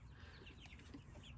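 Broiler chickens on pasture cluck and chirp softly amid a steady low rumble of outdoor background noise, with no clear voices.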